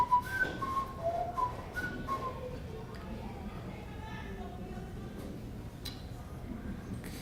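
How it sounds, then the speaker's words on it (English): A person whistles a short, wandering tune at moderate volume, the notes fading out after a few seconds into quiet background noise. "have a little tune I could whistle."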